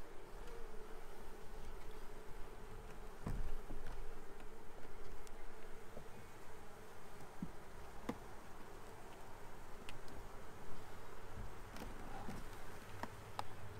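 Honeybees buzzing around an open hive during a split from swarm cells, a dense continuous drone of many bees close by, steady and moderately quiet, with occasional faint clicks.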